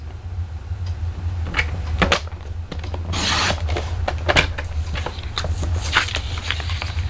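Paper for a 5 x 7 card folio is trimmed on a cutter, giving a few scattered rasping slides and dull taps over a low steady hum, fairly close and moderately loud, with no talking.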